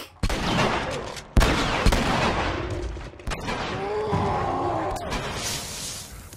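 Gunfire crashes through a fight with a large infected in The Last of Us, several loud, sharp shots spaced across a few seconds, with a growling roar and scuffling between them.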